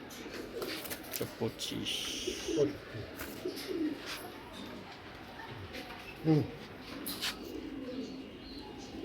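Racing pigeons coo softly in the background while someone talks over them, with a few low, throaty calls breaking through.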